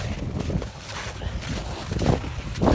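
Wind blowing outdoors on a frigid day after an ice storm, a steady low rumble and buffeting against the microphone with gusts swelling toward the end.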